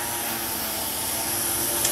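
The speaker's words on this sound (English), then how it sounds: "My husband's trimming the lawn, so pardon the noise." Steady, even mechanical whine of a lawn trimmer running outside an open window, a continuous distant drone with no talking.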